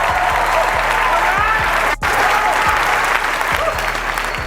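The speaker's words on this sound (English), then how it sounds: "Let's clap it up." Steady, dense audience applause from a live crowd at an interview-style talk event, loud and continuous with a brief dropout midway and a low rhythmic thump pattern underneath.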